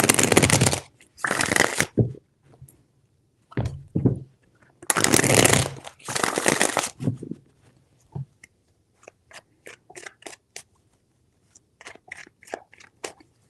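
Tarot cards shuffled in several bursts of crisp riffling, two long loud runs followed by scattered lighter flicks and taps, close up with no talk.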